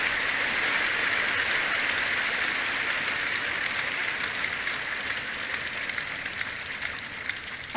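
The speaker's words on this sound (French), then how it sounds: "Acclamez fort le Seigneur Jésus." A congregation at a church service applauds and cheers for the Lord Jesus, a steady, dense wash of clapping from a large crowd that continues loud throughout.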